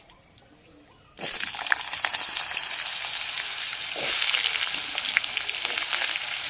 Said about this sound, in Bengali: আলুটাকে না একদম লাল করে ভেজে নিতে হবে